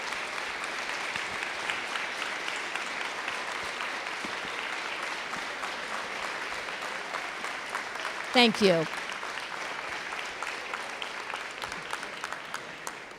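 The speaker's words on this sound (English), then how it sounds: "could teachers and staff please stand for a round of applause" An audience applauds teachers and staff at a school award assembly, steady sustained clapping from a large crowd throughout, with a brief spoken thanks near the end.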